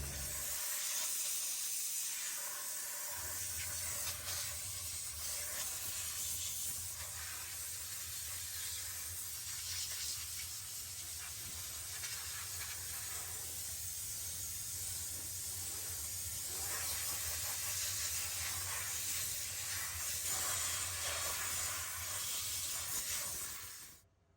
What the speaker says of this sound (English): Let me get the steamer out and we'll start getting to work.